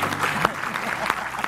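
Studio audience at an Indonesian talk show applauding, moderately loud clapping with a few sharper claps standing out, with faint voices mixed underneath.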